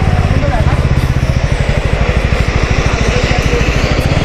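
A motorcycle on a Delhi to Himachal trip putters slowly through a rough landslide stretch, its engine a steady close thumping pulse for the whole span, with voices talking over it.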